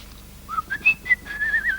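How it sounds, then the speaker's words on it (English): A person whistles a short, wavering melody of several rising and falling notes, close and clear, with no talking. "He's just whistling."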